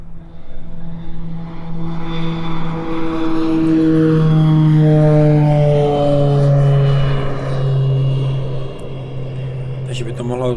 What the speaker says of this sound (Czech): A tady máme nějaký letecký kulomet, přilet letadla.